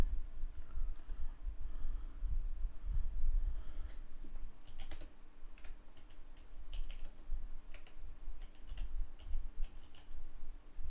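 Typing on a computer keyboard at a desk, a continuous run of quick soft key clicks and taps at close range, irregular in rhythm with occasional sharper strokes, over a low room hum.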